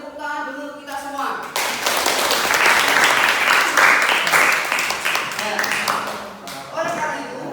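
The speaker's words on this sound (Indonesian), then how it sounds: "Kita beri tepuk tangan dulu kita semua." A class of students breaks into applause, dense close clapping that swells quickly after a voice speaks and holds for several seconds before thinning out, with the teacher's voice over the clapping at the start and end.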